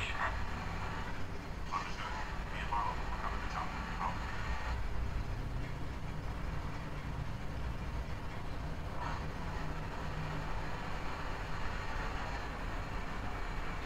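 A tank driven in the video game Battlefield Bad Company on PS Vita, a continuous low engine rumble with clanking tread noise, steady and moderately loud, with a voice talking over it.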